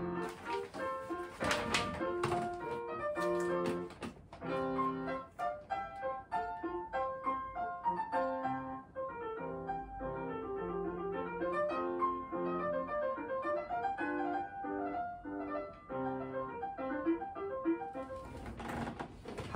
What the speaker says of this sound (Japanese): 通し練習したので、これからその録音を聞いてまたちょっといろいろと考えてみたいなと思います。